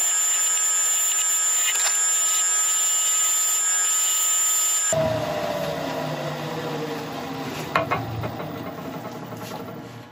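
A high-pitched machine whine gives way to a wood lathe spinning an olive ash bowl, with a tool scraping and cutting a finishing cut against the turning wood in a continuous rough hiss.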